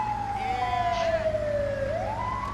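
Wailing loudly and near, the siren of a GTA 5 LSPDFR Australian ambulance glides down in pitch, then swings back upward over a steady rumbling engine.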